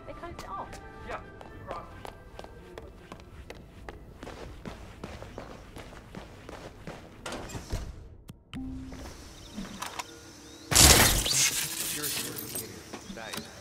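Glass shatters in a loud, bright burst partway through a scene from the Hitman video game. Footsteps and small clinks come before it, and voices talk around it.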